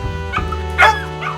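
Dog barking in a living room, a few short close yips and woofs over a steady low hum.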